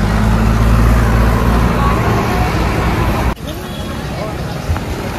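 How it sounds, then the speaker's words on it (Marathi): A car pulls away on a village road in Konkan, its engine rumble loud at first and then cutting down sharply as it leaves, with traffic noise and faint chatter around. "गाडी निघाली आता"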